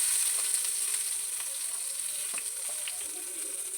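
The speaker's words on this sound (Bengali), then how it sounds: "আবার চাপা দিয়ে দেবো, ওই পিঠটাও ভালো করে ভেজে নেবো।" Spiced eggplant slices sizzle steadily in hot oil, a dense continuous hiss with occasional small pops and crackles, close and fairly loud with no voices.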